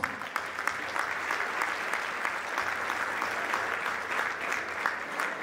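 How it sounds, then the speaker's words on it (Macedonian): A crowded Roma ball in Skopje bursts into loud applause for the host's father, continuous dense clapping from many guests with a few sharper claps standing out. "со еден громо гласен аплауз"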